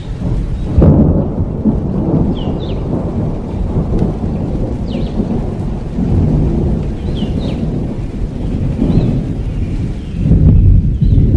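Heavy nighttime rain pours steadily, with deep rumbling thunder swelling near the start and again toward the end. A broad, constant wash fills the background, recorded on a CCTV security camera outside a house.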